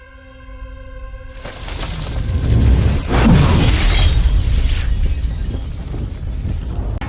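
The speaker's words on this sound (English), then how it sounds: "he doesn't do that, and so we get this really amazing blast wave effect" Explosion blast wave effect from the Fallout TV show: a huge roaring boom that swells after a quiet tonal opening, then rumbles and crackles loudly for several seconds without speech.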